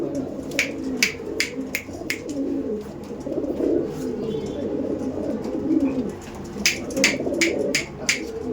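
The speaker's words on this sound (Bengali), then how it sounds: "দেখুন দেখুন পায়রাগুলো দেখুন" Mangalagiri pigeons from Andhra Pradesh cooing in low, rolling murmurs throughout, with faint clicks and flutters nearby.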